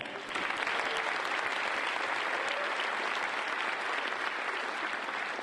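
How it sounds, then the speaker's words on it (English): Hacking conference crowd at a closing ceremony giving a round of applause for a prize winner, a steady wash of many hands clapping that holds evenly loud for several seconds without anyone speaking. "a round of applause for him"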